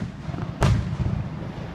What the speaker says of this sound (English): every time they shoot fireworks so quick, I think it's a big one